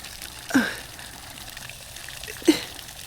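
Water sloshing and trickling against a gap in rock, two distinct splashy laps a couple of seconds apart over a faint continuous trickle.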